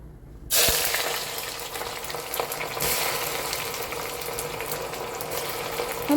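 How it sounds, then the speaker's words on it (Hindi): Sliced large onion drops into hot oil and fries with a loud, steady sizzle that starts abruptly and crackles continuously while it browns, home kitchen setting for mutton khichda. "हम इसको तेल में डालेंगे और हमें इसको ब्राउन कर लेना है।"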